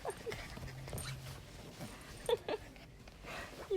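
Dogs playfighting outdoors in Bali, with soft whimpers, scuffling and a few sharp yips scattered over a faint background, fairly close.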